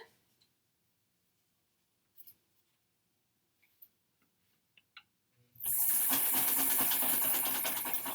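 Quiet clicks and small handling sounds give way to a sewing machine stitching quilt pieces for foundation paper piecing, running loud and steady with a fast mechanical whir until the end.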